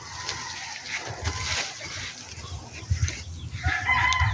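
Backyard chickens cluck and a rooster crows amid splashing water, fairly faint and busy sounds layered together with no clear single call dominating.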